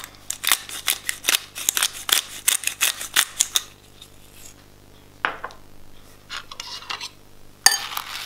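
Utensils clink and tap against a salad bowl as pepper and lemon are stirred in, a quick run of sharp close clicks and scrapes easing into quieter, scattered taps with a final bright clink.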